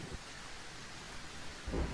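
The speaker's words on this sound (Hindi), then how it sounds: "बाहर बहुत तेज बारिश हो रही है" Steady rain hiss with low thunder rumbles at the start and near the end of a heavy rainstorm, continuous and moderately loud with no voices.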